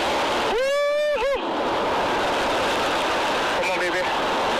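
Ocean surf at Ruby Beach on the Olympic Peninsula, Washington, a continuous loud roar of breaking waves, with a person's voice calling out over it twice.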